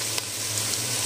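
Whole spices dropped into hot oil in a pot for vegetable pulao, giving a steady, close, loud sizzle and crackle with no speech.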